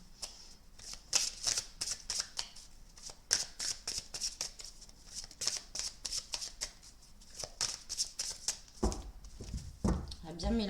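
A deck of playing cards is shuffled repeatedly at close range, a steady run of riffling bursts, with a few handling noises near the end.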